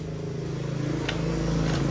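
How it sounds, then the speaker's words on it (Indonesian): A Honda Vario 150 scooter engine being kick-started, with a low steady idle hum and a brief scrape or clack partway through, close by with no talk. "Nah, kita engkol."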